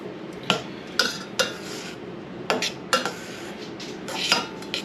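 Metal utensil clinking against a dish while stirring lime juice, a handful of sharp scraping taps in irregular bursts, close and moderately loud, with no talking.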